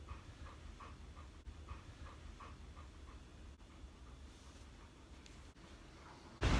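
A dog pants in steady rhythmic breaths close by, the huffing continuous and fairly quiet throughout, with a sudden loud burst at the very end.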